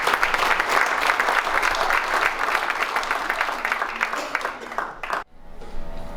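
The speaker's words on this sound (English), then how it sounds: "Let's give them a great round of applause." Strong applause from guests at a banquet, sustained clapping that fades toward the end, cuts off abruptly, then returns as a quieter patter.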